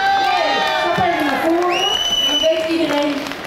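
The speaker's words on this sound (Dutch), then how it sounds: "heel groot applaus voor de nummer 3" A loud crowd cheers and whoops continuously for a contestant, with children's shouts and clapping blending into a steady roar.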